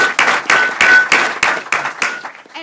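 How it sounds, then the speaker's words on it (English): Live audience applauding at a healthcare panel event on food as medicine, a steady burst of clapping lasting a couple of seconds with a few louder claps standing out, close and fairly loud. "Let's give that a round of applause."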